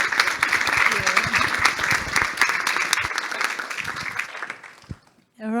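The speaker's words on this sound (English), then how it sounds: "Please give our Fonti and Jose a round of applause" Applause from a conference audience at a digital research skills summit fills several seconds with steady clapping that fades out, and a speaker's voice comes in at the end.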